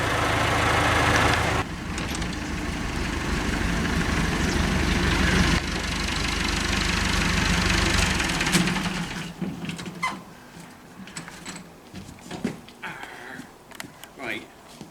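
A loader's engine runs steadily at idle for the first half, a low mid-range hum that then fades back, leaving scattered clatters and knocks in an outdoor yard being mucked out.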